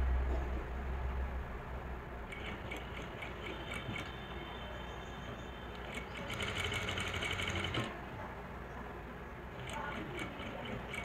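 A sewing machine stitches a lehenga blouse in a quiet indoor setting, running in steady whirring bursts with short pauses, with faint talk behind it.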